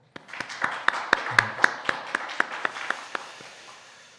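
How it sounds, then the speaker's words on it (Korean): A church congregation claps in a regular rhythm during a Wednesday worship service. About a dozen sharp, evenly spaced claps rise and then fade out. "우리 수고한 모든 분들을 위해서 한번 감사의 박수 한번 하겠습니다"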